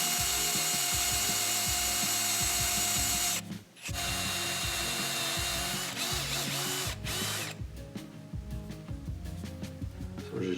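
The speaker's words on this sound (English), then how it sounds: "You hook that up to a drill, and then you can drill out that old pipe out of the coupler." A power drill with a cutting tool grinds and chatters as it drills old pipe out of an RV plumbing coupler in bursts, briefly pausing around the middle before resuming with uneven, rattling cutting.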